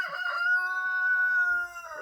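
A single rooster crows nearby, one long drawn-out call that rises and holds before fading, heard clearly on its own.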